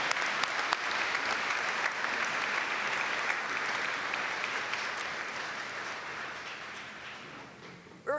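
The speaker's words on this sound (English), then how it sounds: "Let's give our graduates one more hand of applause." Sustained applause for graduates at a university convocation ceremony, a thick continuous wash of many hands clapping in a large hall, steady and loud, easing slightly toward the end.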